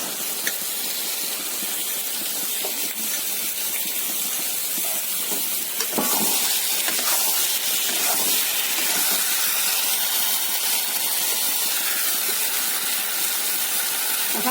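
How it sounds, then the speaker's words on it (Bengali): Capsicum and peas added to a hot frying pan set off a steady, hissing sizzle that runs the whole time, swelling slightly louder partway through as the vegetables land. "এখন ক্যাপসিকামগুলো দিয়ে দিচ্ছি। এখন মটরগুলো দিয়ে দিচ্ছি।"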